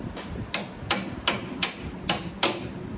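A hammer taps a CV axle on a 2006-2012 Ford Fusion, seven sharp metallic strikes at an even pace, close and distinct against a quiet workshop background.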